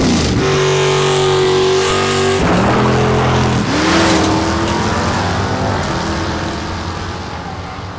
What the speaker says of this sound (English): It's all kind of boring until that motor starts up.